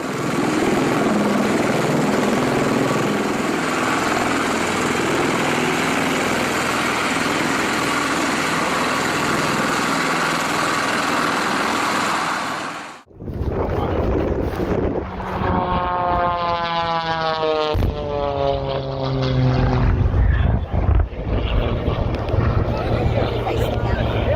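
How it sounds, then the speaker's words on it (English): A V-22 Osprey tiltrotor flies into 320 km/h winds, making a loud, continuous roar of engine and rushing air. About halfway through it cuts abruptly to a different mechanical scene with rising whining tones. "Facing winds of 320 km/h in a V-22 Osprey."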